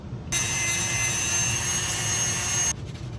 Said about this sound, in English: we're just going to use the Dremel to get us down to that line in the exact shape